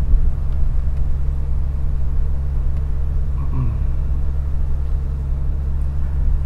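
A small car's engine rumbles steadily from inside the cabin while driving on a warm day, a loud, continuous low drone with even road noise and no talking.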